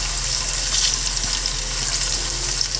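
Tofu stuffed with minced dace fish fries in a pan, giving a loud, continuous bright sizzle over a low steady hum, close and unbroken throughout, with no speech.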